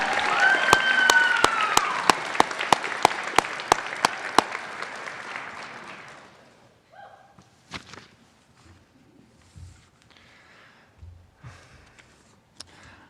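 Audience at a high school graduation ceremony applauds in a broad round of clapping. Sharp individual claps and a ringing tone stand out at first, then it fades away after about six seconds and leaves quiet room sounds and shuffling.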